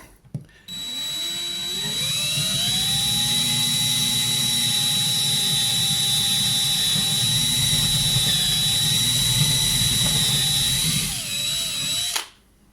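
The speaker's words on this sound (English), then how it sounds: "Never drilled on live online before, but here we go." A power drill bores through a model railway platform in one long, steady, loud whine lasting about eleven seconds, starting and stopping abruptly, with no talk over it.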